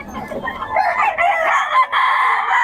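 A rooster crows loudly and close by at a live chicken sale in Bocaue, one sustained call with other fowl faintly clucking behind it.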